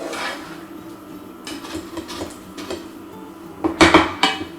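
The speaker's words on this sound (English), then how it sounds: "Now I'm going to add in the stock and the cherry tomatoes and allow that to cook for a few more minutes." Vegetable stock and cherry tomatoes go into a pan of prawn and aubergine curry. Soft kitchen handling builds to a cluster of clattering knocks against the pan near the end.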